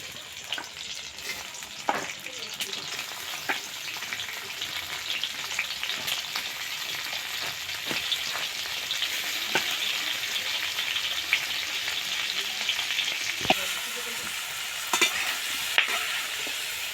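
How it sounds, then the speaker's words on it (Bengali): Giant river prawns fry in oil in a kadai, giving a steady, close crackling sizzle with scattered sharper pops throughout, and no voices. "মাছগুলো হালকা করে ভেজে নেব।"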